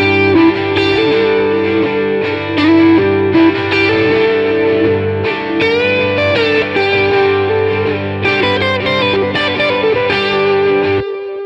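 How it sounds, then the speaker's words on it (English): A distorted lead guitar in a Logic Pro X mix runs through a stereo delay, its sustained, bending notes echoing over layered backing guitars for several seconds before cutting off abruptly. "And so I might send it through something like a stereo delay."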